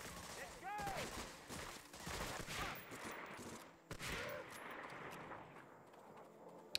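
Gunfire in Medal of Honor: Frontline, a World War II shooter mission in a town, with bursts of shots scattered under a steady battle din, moderately loud and dense throughout.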